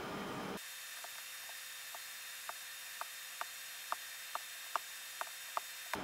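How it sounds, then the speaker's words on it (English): A small drill bit bores screw holes in the wood of a handmade fretless guitar, a faint steady hum after a brief initial burst, with soft regular ticks recurring roughly every half second. "trying to drill these holes"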